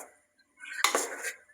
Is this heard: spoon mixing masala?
yes